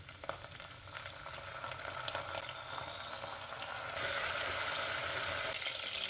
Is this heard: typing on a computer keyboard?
no